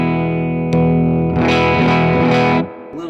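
An electric guitar runs through a Sibriex distortion pedal with the blend knob turned fully left, giving a near-clean tone. Sustained chords ring loud and close, then a few brighter strums follow before the sound cuts off abruptly.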